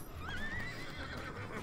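A horse in the Roblox Wild West game gives a single rising and falling whinny, loud and clear over a low game background, with no talk.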